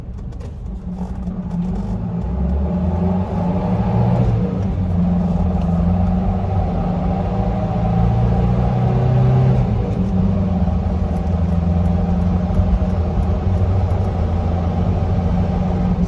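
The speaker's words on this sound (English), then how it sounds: "Now we'll have a bit more of a straightaway and we'll do a full throttle acceleration" A 1977 Mercedes-Benz 240D diesel W123 accelerating at full throttle on a straight road, heard from inside as a loud, steady low droning engine rumble that rises gradually in pitch over sixteen seconds.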